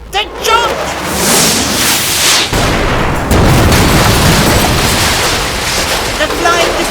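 Missiles blasting into a junkyard full of scrap metal, heard as a sustained roar of booming explosions and crackling debris with a sharp cut midway, loud and continuous, with music and effects mixed in.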